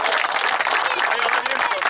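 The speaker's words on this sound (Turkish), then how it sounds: "Buca Gediz takımını yürekten alkışlıyorum" Applause from a crowd at a beach football trophy ceremony honoring the champion Buca Gediz team, steady dense clapping with voices mixed in, loud and close.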